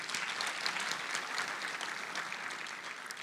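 A conference audience in a hall gives a round of applause. The clapping is steady and continuous, with no break, across the whole stretch.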